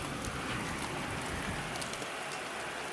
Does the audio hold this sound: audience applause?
no